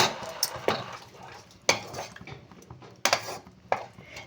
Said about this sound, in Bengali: এবারে এর মধ্যে দিয়ে দেবো সামান্য একটু জল